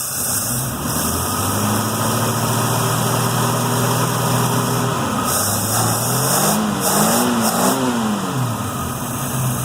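A 1940 Buick engine, not yet warmed up, runs loud and close, its steady drone giving way to revving with rising and falling pitch sweeps toward the end.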